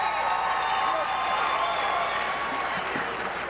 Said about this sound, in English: they're rather large crowd giving a nice round of applause to their Lady Hawks